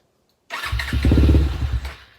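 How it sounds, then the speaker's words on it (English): A Suzuki LTR450 quad with a fouled injector cranks and catches, its engine sputtering roughly and unevenly for under two seconds, loud and close, as if barely able to keep running. "It'll start and run for a second."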